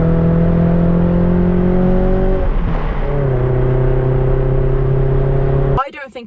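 A Toyota MR2 engine with an aftermarket exhaust drones loudly and steadily, briefly dipping and shifting pitch while changing gear, then settling again before a voice cuts in at the end.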